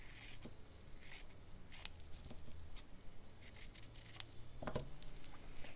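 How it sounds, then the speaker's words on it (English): Scissors trimming a small rectangle of fabric for a stitched gingerbread house chimney, giving several quiet, scattered snips and light rustles against a soft background hum, with no talking. "I just take a little rectangle of fabric, trim it up neatly,"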